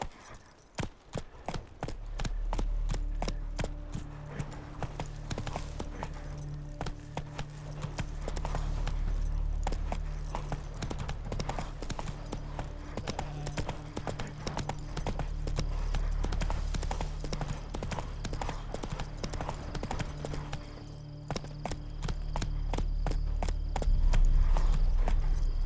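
Roach, Geralt's horse in The Witcher 3, gallops with a steady, rapid clip-clop of hooves close by, layered over a low ambient drone throughout.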